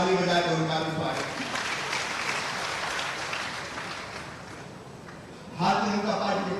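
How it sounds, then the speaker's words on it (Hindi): A crowd at a BJP election rally in Hatpipliya claps in welcome, a broad wash of applause that fades gradually before rising again briefly near the end, with a voice over a loudspeaker at the edges. "ताली बजाकर उनका भी स्वागत।"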